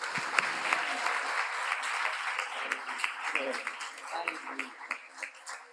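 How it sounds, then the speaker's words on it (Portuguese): A church congregation applauds during a Sunday worship service, a full, sustained wash of clapping that begins strong and thins toward scattered claps at the end, with some voices mixed in. "Vamos aplaudir Jesus?"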